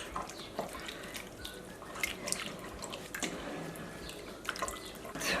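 Water being poured into a yogurt soup mixture in a home kitchen, a continuous soft splashing and trickling with small drips, close and moderately quiet.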